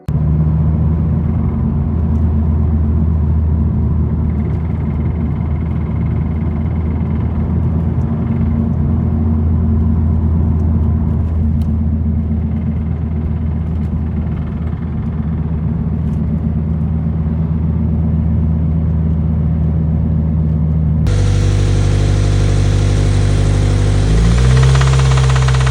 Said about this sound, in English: Here's the clip of my car of what the knocking sounded like.